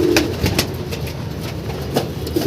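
Domestic pigeons in a flock of about thirty coo softly in short repeated calls over a steady low background hum, with a few sharper peeps scattered across the stretch.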